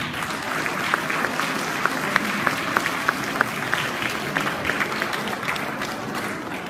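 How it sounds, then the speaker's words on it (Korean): Wedding guests at a ceremony applaud the newly married couple, a steady wash of clapping from a sizable crowd lasting several seconds with a few sharper claps standing out. "서로 하나 된 부부에게 축하와 경례의 박수 부탁드리겠습니다"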